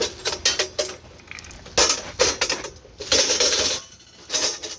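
Metal stopper pole parts from a Halloween animatronic figure are handled and knocked together, making bursts of close metallic clinks and rattles with short pauses between them.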